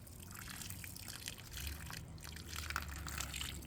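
Water gushes and trickles onto fruit trees in a small backyard food forest in early spring, a steady outdoor flow at moderate distance with no speech.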